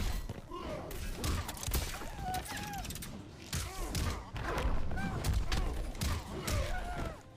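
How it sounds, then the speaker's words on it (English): Smoke bomb attacks and combo hits from Triborg in a fighting video game, a busy run of thumps, bursts and whooshing impacts repeating steadily over several seconds, loud and close, with no voices. "you want to smoke bomb someone out, you can do that"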